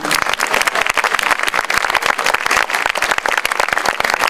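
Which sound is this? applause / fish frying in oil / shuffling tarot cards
applause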